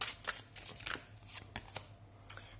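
Tarot cards being shuffled and drawn, heard as soft close flicks and riffles, a few sharper snaps scattered across a quiet room with no talk.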